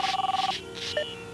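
A telephone rings with a fast electronic trill in two bursts, loud and close, then falls quiet into a short musical tone in a 1997 television commercial.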